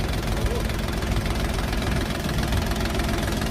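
Bulat 244 mini tractor engine idling steadily, a dense continuous mechanical rumble with a faint knocking texture, close and fairly loud throughout with no talk.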